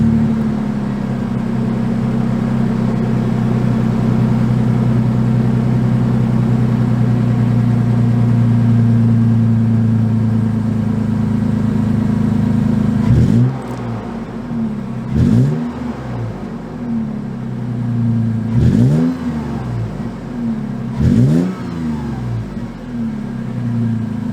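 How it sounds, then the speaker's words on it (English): A 2022 Toyota 4Runner TRD Pro exhaust idles with a steady low rumble close by, then four sharp revs surge and fall away in turn, each rising quickly and dropping back toward idle. "Let's get a quick exhaust clip and then we'll sum things up."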